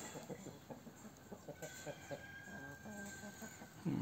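Soft clucking from blue, black and splash Brahma chickens close by, a run of short repeated calls with a faint steady whine in the background.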